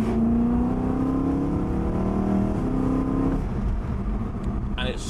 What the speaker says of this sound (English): It sounds so like highly strung and revvy in comparison to some of the Audi V8s.